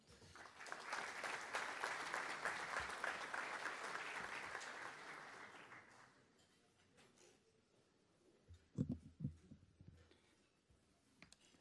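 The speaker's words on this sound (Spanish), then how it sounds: "un aplauso para él" An audience at a conference talk on Uruguay 2030 applauds to welcome the speaker, a quiet, distant patter of many hands that fades out after about six seconds, followed by faint room noise and a few soft knocks and shuffles.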